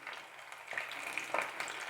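Paneer 65 pieces frying in hot oil, giving a steady close sizzle with small crackles and bubbling pops, fairly quiet and with no voice over it.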